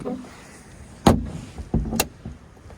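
The front trunk lid of a 981 Porsche Cayman shuts with one solid thump, then a second duller thud and a short sharp click as it latches, close by in a quiet setting.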